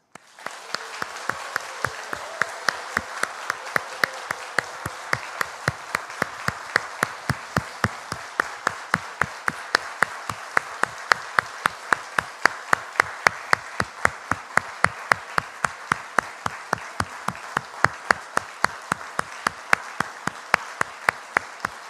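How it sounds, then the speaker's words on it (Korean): A church congregation claps in unison during a revival gathering, sharp rhythmic synchronized beats repeating steadily and loudly for over twenty seconds, with a crowd wash underneath. "여러분이 할 수 있는 한 사랑과 존경을 담아 이 시간 사랑의 박수하겠습니다."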